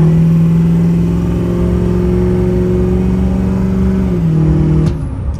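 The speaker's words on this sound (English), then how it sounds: "Nice quiet truck." A 2004 Ford F-350 Lariat 4WD with a 6.0L Powerstroke diesel engine drives along, its steady low drone heard from inside the cab, with the pitch dropping as it shifts near the end.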